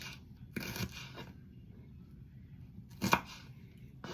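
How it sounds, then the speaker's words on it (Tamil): Shallots being chopped on a board for a tilapia fish kulambu, a few sharp knife strikes at the start and another near the end, close and fairly quiet with no talking. "சின்ன வெங்காயம் இதையும் கட் பண்ணி தான் போட வேண்டும்"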